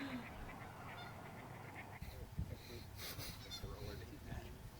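Geese honk on a disc golf course during a tournament, repeated harsh calls at middle distance over a noisy outdoor background, with a few louder honks in the second half.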